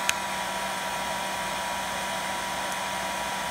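A handheld hair dryer running on its high heat setting with the fan on low, a steady whooshing motor drone that holds constant and fairly loud throughout, with a brief click at the start.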